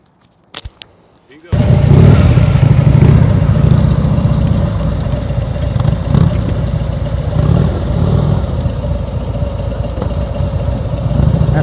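A motorcycle engine runs at low throttle during slow-speed riding practice, a steady loud drone that holds nearly constant after a couple of brief knocks at the start, close to the microphone with no talking.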